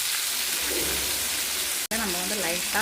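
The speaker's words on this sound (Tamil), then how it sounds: "இப்போ நம்ம தவாவில் மீன் ஃப்ரைக்கு போட்டாச்சு" Fish fillets of kalavai (grouper) frying on a tawa give a steady broadband sizzle throughout, briefly cut off near the middle, and a person speaks over the frying in the second half.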